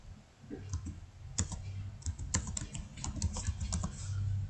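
Rapid keystrokes on a computer keyboard while a ledger name is typed into Tally Prime accounting software, a close, irregular run of clicks and taps over a low background hum.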